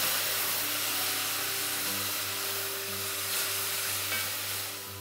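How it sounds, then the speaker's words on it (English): Onions cook in orange juice in a pan for a lamb, olive and orange stew, giving a soft, steady sizzle and hiss of evaporating liquid, fairly quiet and continuous, with a low hum beneath. "just cook it until the orange juice is evaporated"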